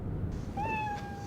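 A single short kitten meow, thin and rising then falling, close and clear against a quiet room background.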